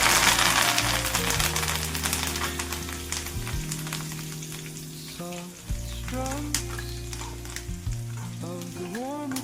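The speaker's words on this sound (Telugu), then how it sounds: "అందులోనే 2-3 రెబ్బల వరకు కరివేపాకు కూడా వేసుకున్నాము" Curry leaves sizzle and crackle as they fry in a pan of hot oil for Andhra gongura pickle, with a steady close hiss running under gentle acoustic guitar music.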